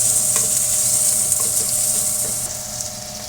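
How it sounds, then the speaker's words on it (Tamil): Sliced onions sautéing with garlic in a pan, a close, steady hiss of frying with occasional soft stirring taps and no talk. "வெங்காயம் போட்டு வதக்கிக்கலாம். வெங்காயம் வதங்கட்டும்."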